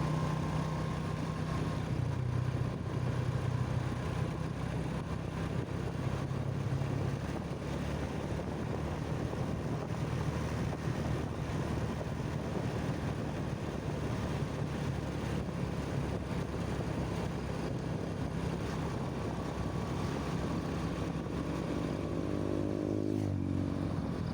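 A Honda Revo 100 motorcycle rides on wet asphalt in Tulungagung, East Java, making a continuous steady engine drone with road noise for over twenty seconds. The pitch dips and rises briefly at the very end.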